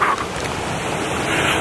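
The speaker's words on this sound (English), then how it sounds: "if it's loud, it's that waterfall in the background." Steady, loud rushing roar of a waterfall close by outdoors at night, a broad continuous wash of noise with some wind buffeting on the microphone and no talking.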